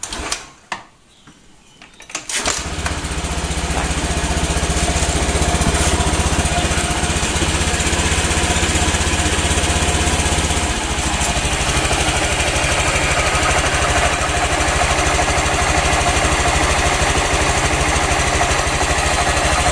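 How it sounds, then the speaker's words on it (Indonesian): A Honda Genio scooter engine kicks into life after a brief rattle, then idles steadily with a loud, continuous buzzing putter close by. "ini suara mesinnya"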